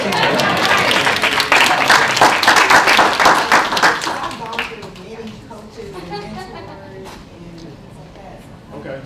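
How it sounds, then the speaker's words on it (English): Audience applause at a masterclass, fairly thin clapping that swells for about four seconds and then fades to scattered claps as a voice talks. "That was a weak applause, by the way."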